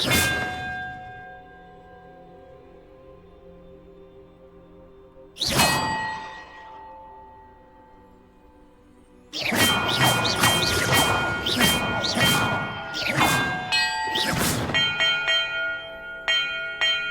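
Bells rung as a puzzle in the Hogwarts Legacy video game: a single clang, another a few seconds later, then a rapid run of overlapping bell strikes with long ringing decay, loud and close.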